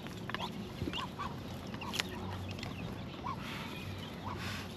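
Brooding hens clucking near the eggs they are sitting on in a backyard, soft scattered clucks over a steady low background hum, with no one talking.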